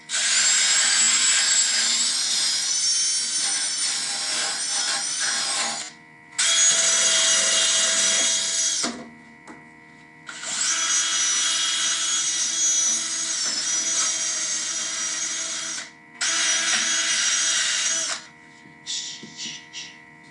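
A cordless power drill runs in loud, sustained high-pitched bursts with short pauses between them, joined by a steady background hum, during a tiller restoration.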